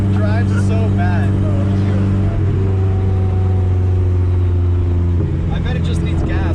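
A Mazda Miata fitted with a cam engine drives along, its low engine drone steady and loud throughout, with a shift in tone partway through, while a person talks over it.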